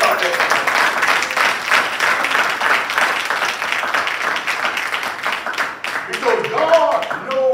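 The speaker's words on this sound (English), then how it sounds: "Give me a hand clap, y'all caught that." Hand clapping from a church congregation fills the space with dense, continuous claps, loud and close, with a voice rising briefly near the end.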